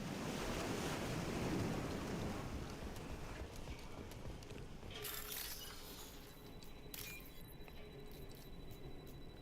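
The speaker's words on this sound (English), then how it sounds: "Ocean sounds." Ocean waves in the video game Mass Effect 2: a continuous, faint wash of surf mixed with wind-like noise, with a few light clicks and a thin tone in the later part.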